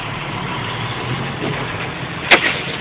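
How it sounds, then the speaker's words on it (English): A tractor-trailer truck's engine idles steadily during a brake tug test of a combination vehicle's air system, a loud, constant low rumble with a brief sharp click or hiss near the end and no talking. "Next, I'll be releasing my tractor brake to test my trailer brake."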